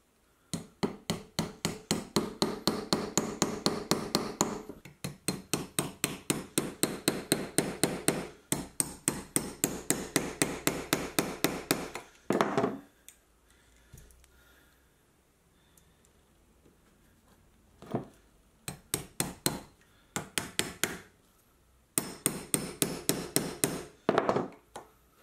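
Rapid, steady hammer blows on a metal knife blade holder, loud and close, in long bursts with short pauses between runs of strikes.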